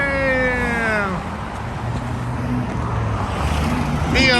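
A Subaru STI with a straight-pipe exhaust roars past loudly, its engine note sliding down in pitch as it goes by, then a rising rasp near the end, while voices speak over it.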